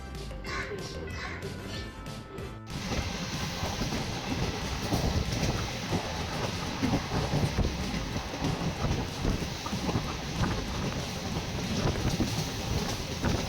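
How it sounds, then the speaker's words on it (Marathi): Rain starts after a couple of seconds: a quieter background gives way to a dense, even hiss of falling rain that continues steadily. "पाऊस चालू झाला पप्पा"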